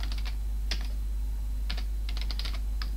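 Keys tapped on a computer keyboard while entering Linux compose-key combinations, a few sharp, separate clicks and short bursts scattered over a steady low hum, close by and unaccompanied by speech.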